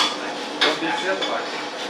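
Roasted coffee beans, medium and dark roast, scooped up at a Kenyan coffee farm, giving a dense, steady rattling clatter of hard beans with a sharper burst partway through, close and fairly loud.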